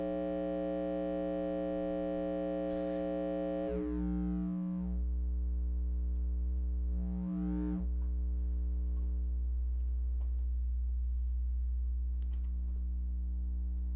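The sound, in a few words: filtered sine wave from synthesizer module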